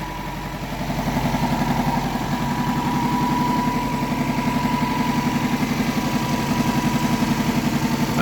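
A Toyota Corolla 4A-F engine with a Solex carburetor idles steadily nearby after being brought back to running, a low, even chugging pulse with a faint cooling fan whir underneath and no voices.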